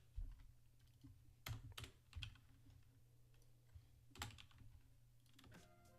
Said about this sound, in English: It's a loud mechanical keyboard.